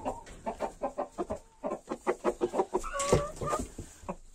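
Five hens and a rooster in a henhouse keep up a run of rhythmic, close clucking, about two per second. Near the end a brief louder squawk or crow cuts in, with no talk over it.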